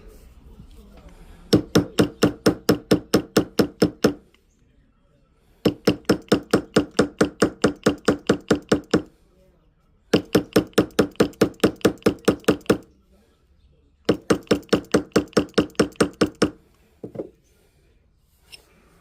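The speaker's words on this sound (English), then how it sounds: "if you need to tap on the sides where the stones are, you want to use the rubber mallet" A rubber mallet taps a thick white gold ring set with stones, in four bursts of about a dozen quick, evenly spaced knocks, close and loud, separated by brief pauses.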